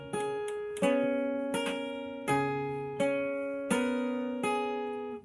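Clean guitar picking out a repeating three-note pattern, each note plucked distinctly and left ringing, about seven evenly spaced plucks with sustained overlapping tones, played alone with no talk.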